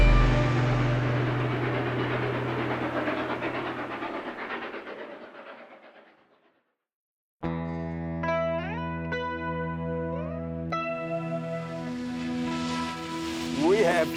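A steam train rumbles and chugs with rhythmic clatter over viaducts in Australia's Blue Mountains, fades to near silence, then returns loud with sharp whistles and hissing steam.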